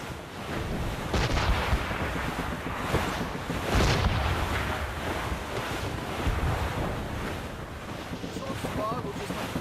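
Strong squall wind buffeting and rushing waves at sea aboard a sailing ship in Assassin's Creed Rogue, a steady loud roar with gusting swells throughout, with no speech.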